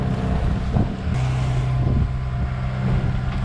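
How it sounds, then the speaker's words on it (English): A sailboat motor sailing on open sea between the Virgin Islands and St Maarten in light headwind, its engine a steady low drone under constant wind rush, with no voices. "We're still just motor sailing along."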